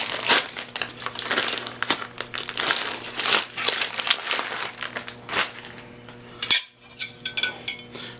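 Child-proof plastic packaging crinkles and crackles as it is handled, with repeated close bursts of crisp rustling, a few light clicks and one sharp snap near the end.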